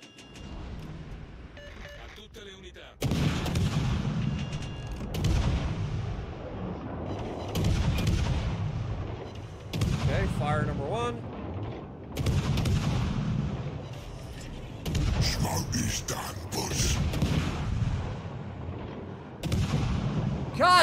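Heavy naval guns firing in World of Warships Legends, a series of booming salvos every couple of seconds with rumbling low-end tails, loud and close, without speech.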